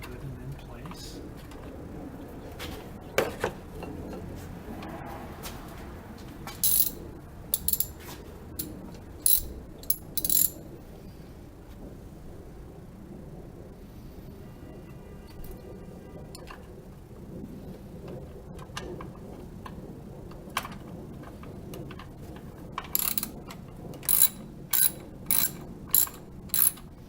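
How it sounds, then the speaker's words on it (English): A ratchet tightening the nuts on car battery terminal posts, clicking in short quick bursts separated by quiet pauses, close and crisp. "while I turn the nut to secure it"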